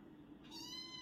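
A kitten gives a single short, faint meow over a low steady background hum indoors at a family birthday cake celebration.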